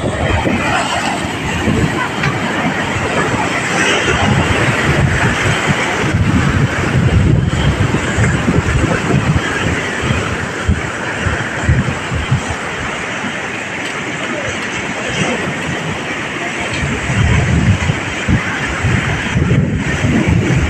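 Sea waves splashing against a rocky shore, a continuous loud roar of broken water with surging swells and heavy wind buffeting the microphone throughout.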